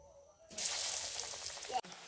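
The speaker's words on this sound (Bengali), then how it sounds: "আলুর চাকগুলোকে মরিচের গুঁড়া এবং লবণ দিয়ে মাখিয়ে বেসনের মধ্যে মাখিয়ে তেলে ছেড়ে দিবেন" Sweet potato slices coated in chili powder, salt and gram flour batter hit hot oil with a sudden loud sizzle that holds steady and close for over a second, then cuts off abruptly.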